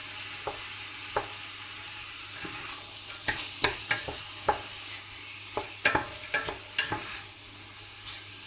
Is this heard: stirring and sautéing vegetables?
yes